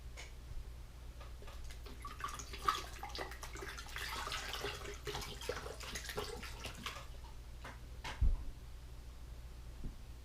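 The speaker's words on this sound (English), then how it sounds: "Let's pour this water out and get the flashlight." Water is poured out of a small container after a flashlight soak test, giving a faint, soft splashing hiss that rises midway. A couple of light clicks and knocks come through quietly.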